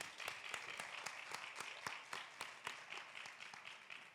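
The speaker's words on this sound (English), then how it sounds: "Can we clap it up for everybody?" An audience claps together after a relationship talk session, with distinct sharp claps standing out over a softer continuous patter, fairly quiet overall.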